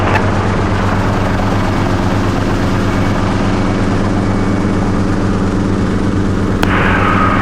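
Robinson S300 (Hughes 269B) helicopter engine and rotor during departure, a loud steady drone with low rhythmic blade thump filling the whole stretch, with no one speaking.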